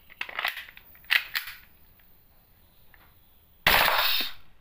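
An airsoft gun with a leak fires on full auto in short, sharp rapid bursts, closing with a louder, longer burst of shots, with no talking.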